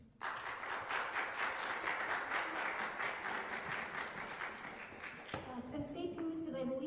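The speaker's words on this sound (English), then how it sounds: "can we give a round of applause to Harris Anderson, Benjamin Straits, Laura Avila," An audience at a graduate composition recital applauds a string quartet, steady dense clapping filling the room for several seconds before thinning out as a voice begins speaking.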